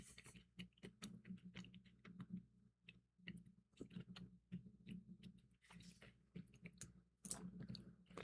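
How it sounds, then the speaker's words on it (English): Someone munching on nuts chews close up with a quiet, irregular run of crunchy, squishy bites, steady under a faint low hum and free of talk. "As I'm munching on nuts."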